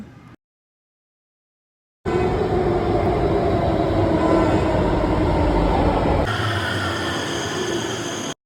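A metro train rumbles steadily from the inside, a continuous low roar and whine of a moving carriage after a brief silence, with no voices, in Bangalore.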